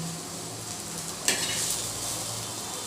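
Onion slowly frying on low gas until browned, a soft continuous sizzle with one brief utensil clink partway through, faint and steady with no voices.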